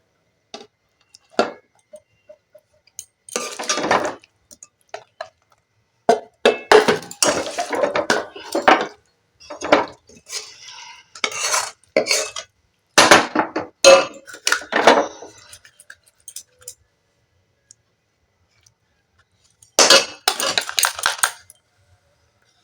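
A utensil stirring tamarind pickle in a pan, with repeated scraping clinks and knocks of metal against the pan in irregular bursts, close and fairly loud, with quiet pauses between.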